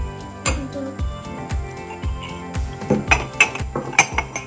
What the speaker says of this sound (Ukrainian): Я заберу чашки.